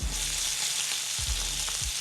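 Food frying steadily in hot oil, a dense crackling sizzle heard close up, with a few soft low thuds from stirring, and no voices.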